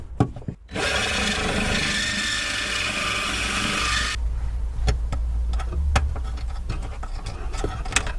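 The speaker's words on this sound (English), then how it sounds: "It's a little deburring tool, machining tool." A small deburring tool works a hole while a grommet is fitted during a modern ESP angle sensor install on an old VW Corrado TDI. It makes a loud, continuous grinding rasp for about three seconds, followed by scattered light clicks and taps.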